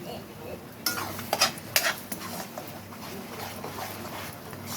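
Ingredients sauté in a pan with a low steady sizzle, broken by a few sharper clinks and scrapes of a spoon stirring near the start, close and fairly quiet.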